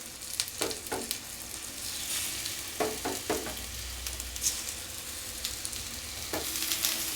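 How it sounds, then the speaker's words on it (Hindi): Banana pieces shallow frying in oil over a low flame for a vegetable curry, a steady close sizzle with a few soft scraping and clinking touches from a utensil, no voices. "तो मैं इसे सैलो फ्राई कर रही हूँ"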